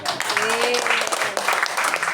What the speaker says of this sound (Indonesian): Jadi tepuk tangan dulu buat komunitas rasa mulia.